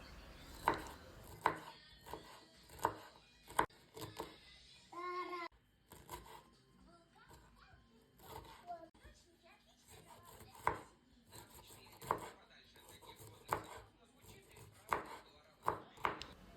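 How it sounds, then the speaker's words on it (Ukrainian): A knife finely chops broccoli on a cutting board in quick bursts of crisp taps, with brief pauses between runs; close and fairly quiet. "Далі я беру брокколі 200 г і також нарізаю дрібненько."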